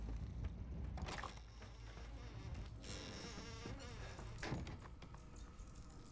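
Insect-like buzzing of bees inside the survival horror game Resident Evil 7, a steady dense drone that fills the clip at constant loudness, with game ambience and brief knocks mixed in and no speech.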